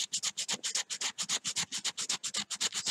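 Sandpaper scrubs rapidly over a hand-carved wooden fishing lure, close, dry rasping strokes in a steady back-and-forth rhythm with no pause.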